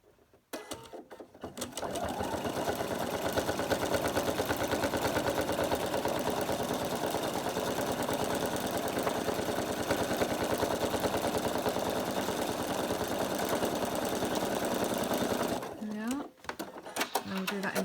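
A sewing machine stitches an applique ring for a beach hut picture, running in a long, steady, fast whirring hum with close, rhythmic needle clatter, starting and stopping with brief pauses at each end.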